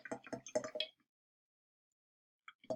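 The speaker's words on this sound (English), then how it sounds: "as I'm pouring, the oil is sitting on top of the water" Oil poured into water in a mason jar gives soft gurgling, dripping liquid sounds in a quick cluster, then silence, with a short burst of liquid sound returning at the end, close and quiet.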